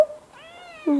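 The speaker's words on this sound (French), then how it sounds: "Ouh, Minette. Miaou." A house cat gives a single short meow, close and clear, rising then falling in pitch, ending with a brief second voiced note; quiet indoor setting with no one talking during the call.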